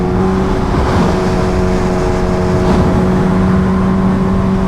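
A Kawasaki H2R motorcycle makes a quick acceleration pull, a loud, continuous engine drone with strong steady harmonics and rushing wind noise throughout.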